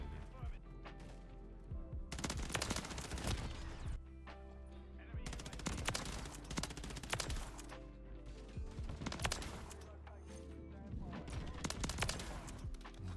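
Suppressed Rival-9 SMG fire from the video game Modern Warfare 3, heard as rapid bursts of muted automatic shots with gaps between them, while someone talks over the gameplay.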